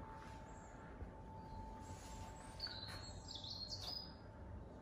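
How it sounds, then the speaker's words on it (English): Birds chirp outdoors at a modest distance, a few thin high tweets and short trills over a low, steady background hum. "The birds are so lovely. Aren't the birds lovely?"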